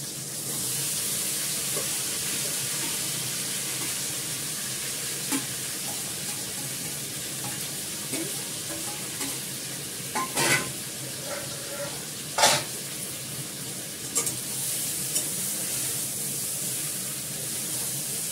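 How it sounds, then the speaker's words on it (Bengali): Marinated meat with onion, ginger, garlic, turmeric, salt and a little Kashmiri chili powder frying in a pan, a steady close sizzle with occasional stirring knocks and scrapes, no talk. "এবার ম্যারিনেট করা মাংসটা দিয়ে দেবো। পেঁয়াজ, আদা, রসুন, হলুদ, নুন, সামান্য একটু কাশ্মীরি লঙ্কার গুঁড়ো।"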